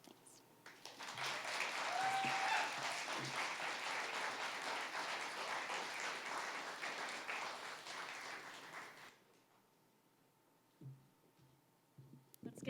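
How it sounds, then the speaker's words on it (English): Audience applause at a story slam evening, dense clapping swelling in and holding for about eight seconds, then cutting off into quiet room tone with a few faint sounds. "Let's get another round of applause for our brave storytellers who shared with us this evening."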